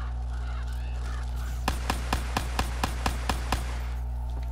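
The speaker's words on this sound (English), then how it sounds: "We got crows." Crows cawing in the Call of Duty video game: a run of about eight evenly spaced, sharp calls over a low, constant background hum.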